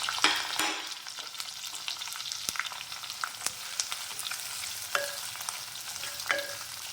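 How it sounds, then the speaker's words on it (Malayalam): Thinly sliced onion, slit green chilies and curry leaves sauté in hot oil for a quick curry, giving a soft steady sizzle broken by a few sharp scrapes and taps of a spoon stirring the pan, with no talking. "അതിലേക്ക് 1 സബോള ഇങ്ങനെ അധികം കനമില്ലാതെ അരിഞ്ഞു വെച്ചിട്ടുണ്ട്."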